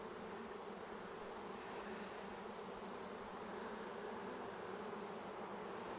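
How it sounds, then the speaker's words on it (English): A dense, steady drone of honey bees from a freshly caught swarm, loud and close, with a continuous buzz that never breaks. "And there's our bees."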